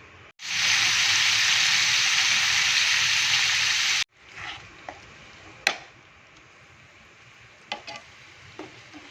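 Masala frying in a non-stick pan: a loud, steady sizzle for about four seconds, then it drops to a quieter crackle with a few sharp clicks and taps.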